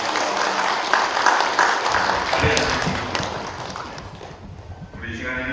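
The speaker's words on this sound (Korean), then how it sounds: "우리 박수로 축하해 주시기" A Korean church congregation applauds at a retirement and ordination service, with dense clapping that swells and then thins out while voices murmur underneath.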